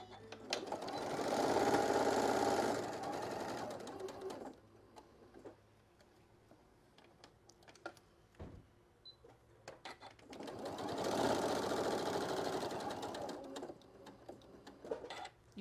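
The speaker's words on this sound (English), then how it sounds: "I'm going to sew all the way around" A sewing machine stitches around the edges of fabric for a shoulder wrap, running in two long steady bursts with a quiet pause of small clicks and handling between them, close and fairly loud.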